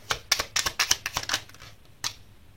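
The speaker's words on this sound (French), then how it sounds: "Je vais poser les autres cartes." Tarot cards laid down one after another on a table during a reading, a quick run of about eight sharp, close slaps and flicks followed by a pause and one more card, with no talking.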